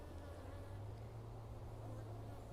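A drone honeybee buzzes close up inside the hive, a steady, faint, low drone that never breaks, with a soft background hum.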